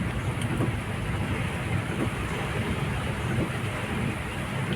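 Storm rain hisses densely and steadily with deep thunder rumbling through it, a loud, unbroken wash of downpour heard along a road during a typhoon.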